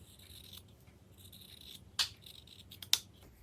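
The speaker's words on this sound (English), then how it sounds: "You just want to cut right on the line you drew." Scissors cut quilting fabric along a drawn line, soft rasping snips heard close and quiet, with two sharper clipped cuts standing out near the end.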